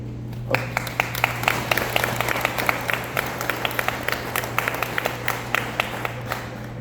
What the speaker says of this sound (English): I'm not used to the clapping yet.